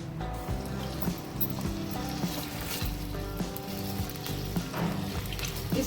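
Chicken fries in hot oil in a pan while a samosa filling is cooked: a steady, dense sizzle runs throughout, with occasional clinks and stirring knocks over it and no talking.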